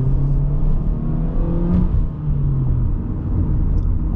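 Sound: 2021 Honda Civic four-cylinder engine accelerating

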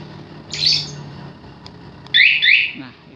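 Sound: motorcycle alarm triggered by cloned RF remote signal

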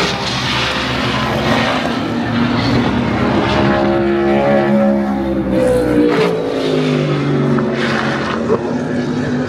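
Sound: Super Trofeo race cars in practice at COTA

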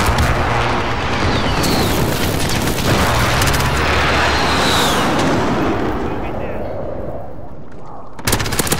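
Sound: precision airstrike explosions in a video game

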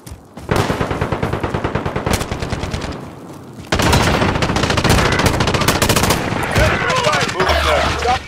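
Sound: gunfire in video game Call of Duty Modern Warfare Warzone

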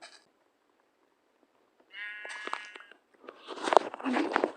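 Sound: sheep bleating in Minecraft video game

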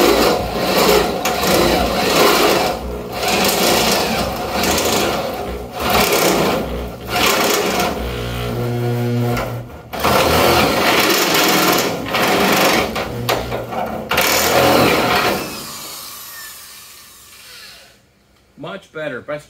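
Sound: step drill drilling through material

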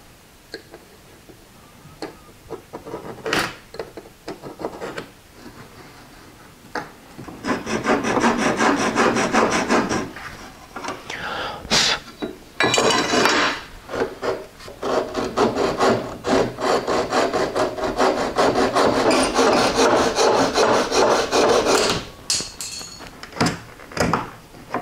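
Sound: cutting an aluminum screen frame piece

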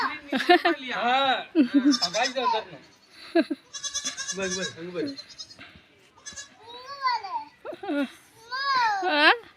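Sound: baby goat bleating

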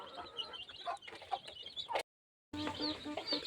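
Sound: chickens clucking in a coop

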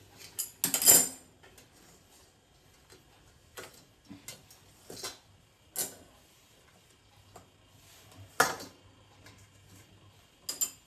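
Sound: taking the steamer sieve out of the pot

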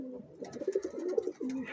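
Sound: pigeon cooing

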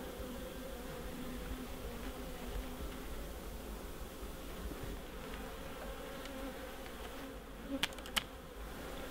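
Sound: honey bees buzzing in an opened bird box hive

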